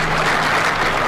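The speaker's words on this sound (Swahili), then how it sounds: "Tuwapigie makofi hawa wadosi" A crowd applauds labour leaders at a public gathering. The clapping is loud and close, one continuous wash of hands for about a second with no voices over it.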